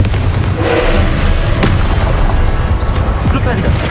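Confringo spell blast in Hogwarts Legacy: a loud, rumbling explosive boom with a sharp crack near the middle, set in dense game sound and music, with a character's voice in the mix.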